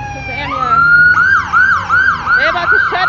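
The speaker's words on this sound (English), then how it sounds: "There's the ambulance." A wailing ambulance siren in downtown San Jose on Cinco de Mayo sweeps up and down repeatedly, loud and close, with the pitch rising and falling in quick cycles over traffic rumble.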